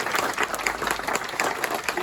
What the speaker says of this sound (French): Un grand bravo aussi, on peut les applaudir